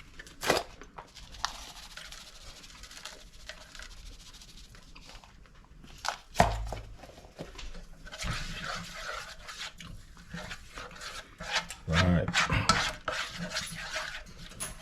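Parmesan cheese stirred into butter and garlic wings, scattered scraping and clinking of a utensil against a pan or bowl, with one sharp knock partway, close and intermittent.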